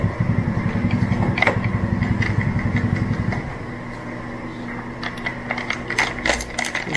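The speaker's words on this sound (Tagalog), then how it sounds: "May mga motor sa labas." Motorcycles rumble outside, a loud idling engine chugging nearby for a few seconds before it cuts off, leaving quieter mechanical clicks and rattles.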